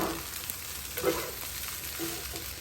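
Mussel, egg and vegetable fried rice frying in a pan, a soft steady sizzle with a few stirring scrapes, close and fairly quiet.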